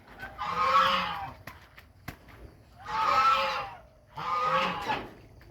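Geese honk in three loud, drawn-out bursts, evenly spaced and fairly close, with quiet pauses between them.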